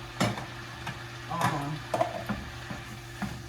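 Ground chicken sizzles in a pan as a utensil stirs and scrapes it in a few distinct strokes, close and fairly quiet, with no talking.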